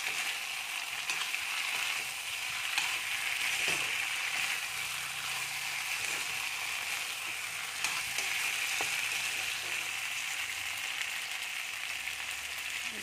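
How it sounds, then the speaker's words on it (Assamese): Mixed vegetables fry with masala in a pan, giving a continuous close sizzle with occasional light scraping and stirring knocks, heard alone without speech. "অলপ মছলাৰ লগত মই ইয়াতে ধুনীয়াকৈ ভিজি ল'ম।"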